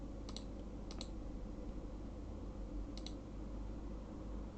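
Keystrokes on a computer keyboard come in three short clusters of clicks, spaced apart over a steady low background hum, with no talking.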